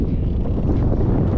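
Strong wind buffets the microphone at an airfield, a steady low roaring rush with no pauses throughout.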